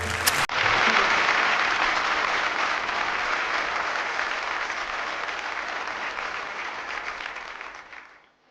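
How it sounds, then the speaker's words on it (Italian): Sustained audience applause, dense clapping from a large crowd that starts abruptly and holds steady for several seconds before fading out at the end. "Venduto, l'abbiamo venduto, signori miei, un applauso."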